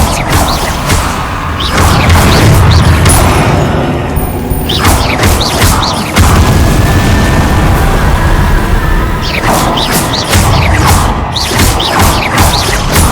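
Confringo fire spells exploding in Hogwarts Legacy, a run of loud crashing blasts and bursts across a busy combat scene, recurring in waves with broadband impacts over a constant rumbling game mix.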